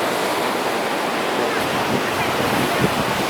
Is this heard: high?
yes